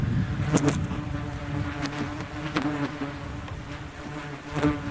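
Hornets swarming around a camera near a nest, a dense close buzzing with several insects passing the microphone, plus a faint engine hum in the background.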